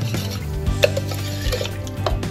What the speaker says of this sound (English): And now we're just gonna whisk it all together.